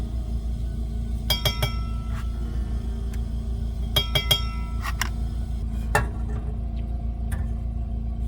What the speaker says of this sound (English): All right, let's make a cup of tea.